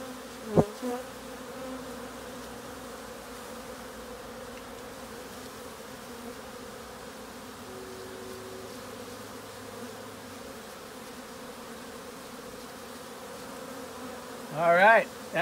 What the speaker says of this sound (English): Besides pissed off bees.